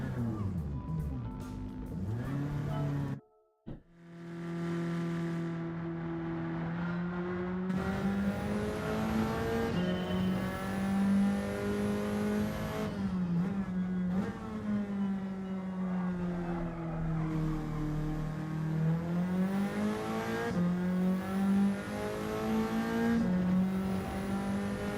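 A race car in Gran Turismo 7 revs hard and shifts through gears. It drops out abruptly for a moment, then climbs and falls under braking and acceleration, loud and close throughout.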